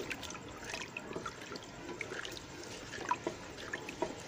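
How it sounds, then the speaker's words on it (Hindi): Water poured into a gram flour and yogurt mixture for kadhi, a steady close trickle and splash that runs continuously for about four seconds. "अभी हमने इसमें थोड़ा पानी डाला है ताकि इसको एक उबाला आ जाए।"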